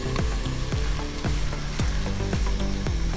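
Chicken with masala cooking in a covered pan on a low flame, a loud close sizzle and frying crackle with rhythmic scraping pulses throughout, no voices.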